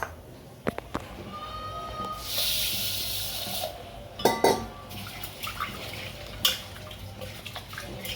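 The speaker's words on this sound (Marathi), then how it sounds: "तांदूळ धुवून असे स्वच्छ केले छानपैकी" Basmati rice being washed in water: a soft running splash in the middle of the clip, then a few sharp clinks and sloshes of grains and vessel, quiet and close in a kitchen.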